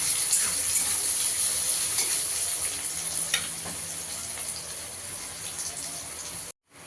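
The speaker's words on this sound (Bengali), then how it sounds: "পেঁয়াজটাকে একটু ভালো করে ভেজে নিতে হবে।" Chopped onions fry in hot oil with a steady, close hiss. The sizzle holds fairly evenly and fades a little toward the end, then cuts off briefly.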